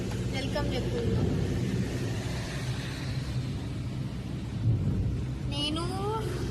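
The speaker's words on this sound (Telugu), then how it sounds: "వెళ్తున్నామని వర్షం పడుతుంది అనమాట" Rain falls steadily outdoors during a family trip, a continuous rushing wash with low rumbling, likely passing traffic, and voices talking over it throughout.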